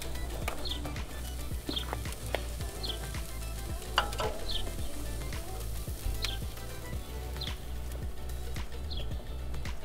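A butter-aged entrecote steak sears in a hot pan with a steady, crackling sizzle, sharp pops and spits breaking through at a regular pace over a low rumbling base, close and continuous.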